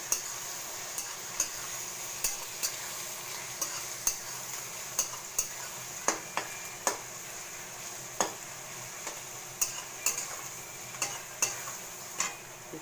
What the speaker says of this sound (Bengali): আমি রসুন বাটাটা দিয়ে দিলাম। রসুনটা ভেজে নেবো